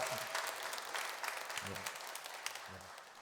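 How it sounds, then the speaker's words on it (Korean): A church congregation claps to welcome a newcomer at a Sunday service, a soft, fairly distant spread of clapping running steadily throughout, with faint low voices underneath. "우리 박수 쳐주시기 바랍니다."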